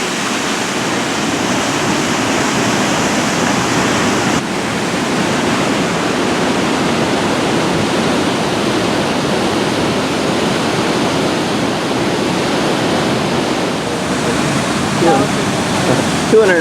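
Steady, loud rushing roar of water flowing over limestone near the Columbia Icefield, a dense continuous wash that stays constant throughout with no pauses.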